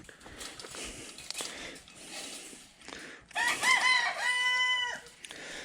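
A rooster crows nearby with a loud drawn-out call, following faint clucking and rustling in the background.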